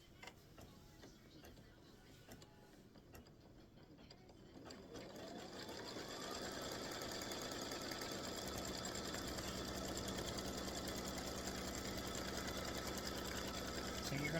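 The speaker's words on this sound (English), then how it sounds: "Now it's going to stitch color stop number 3, a placement stitch for your center fabric." An embroidery sewing machine starts up and stitches a placement stitch, a steady fast mechanical whirring hum that builds after a few seconds of quiet and then runs continuously, close and loud.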